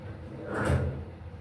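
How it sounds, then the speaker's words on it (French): A door slams shut inside the video game Black Ops 6, one solid thud lasting under half a second amid low background game ambience. "On va claquer la porte."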